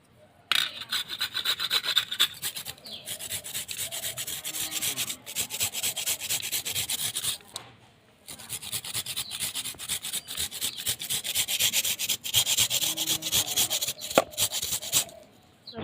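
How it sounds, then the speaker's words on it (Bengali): Pieces of coconut are rubbed hard against a hand grater in steady, rapid rasping strokes, close and continuous, with two brief pauses between bursts and no talking. "এবার গ্রেটার সাহায্যে গ্রেট করে নেবো"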